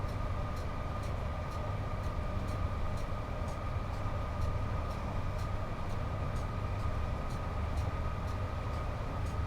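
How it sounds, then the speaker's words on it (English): Electric train running with only two working traction motors on the West Coast Main Line between Crewe and Preston in Train Sim World 6: a steady loud rumble and motor hum with regular rhythmic rail clicks, continuous and close, no talk. "As long as we can let the train run, we are getting it to speed even with only 2 traction motors working."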